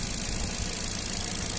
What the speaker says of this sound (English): Engine sound very nice and smooth, nice and clean.